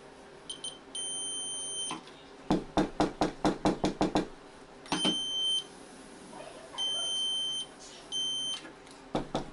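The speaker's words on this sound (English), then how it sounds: "Now the stud finder can go this way too." Electronic stud finder beeping over a wall stud in a bathroom, with steady sustained tones and short repeated beeps, interrupted by a run of sharp tapping knocks, close and clear.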